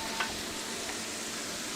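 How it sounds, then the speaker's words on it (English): Steady, dense sizzling of chicken frying in a hot wok, a continuous crackling hiss with a faint clink near the start and no talking. "we're just wok frying chicken"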